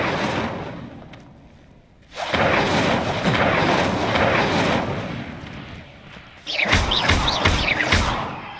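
A fire spell cast in the Hogwarts Legacy video game, heard as loud booming blasts with thuds and crackling bursts, one swell early on and a denser run of sharp hits near the end, with no talk.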